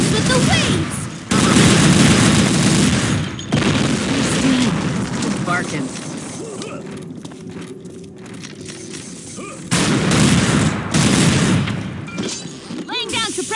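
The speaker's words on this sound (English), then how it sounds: "Laying down, suppressing fire." Sustained gunfire and booming blasts in an Unreal Tournament 2004 team match, loud and dense, easing off midway before flaring up again, with game voices calling out over the shooting.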